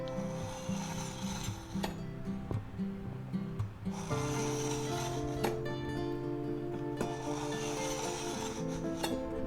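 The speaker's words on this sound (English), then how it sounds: "we'll go ahead and sharpen it. We'll pull it through there maybe 3 times." A Santoku knife is drawn through an AnySharp knife sharpener in a kitchen, giving a faint, close scraping and rasping with light mechanical clicks over a steady low hum.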